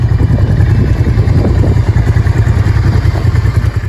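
A Honda NT650 Deauville V-twin motorcycle engine runs with a loud, steady low rumble and an even throbbing pulse throughout.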